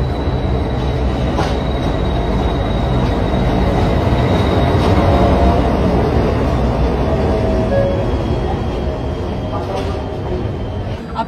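The Howrah–Ranchi Shatabdi Express rumbles along in a loud, continuous roar of wheels and carriage noise, with faint rhythmic clatter and a thin squeal, heard steadily throughout.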